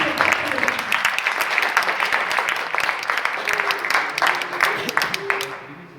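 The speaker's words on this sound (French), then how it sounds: "on peut les applaudir et on peut applaudir" An audience applauds at the final and project showcase of a Brussels tech competition, dense continuous clapping from a full room that holds steady for several seconds before thinning out at the end.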